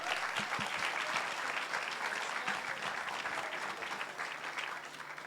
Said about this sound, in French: Applaudissements, s'il vous plaît, pour Antoine Lee.